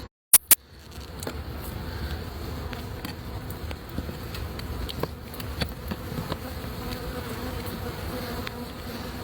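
Bees buzz around a hive being removed from house eaves, a soft continuous drone with faint scattered ticks and taps, after a couple of sharp clicks at the start.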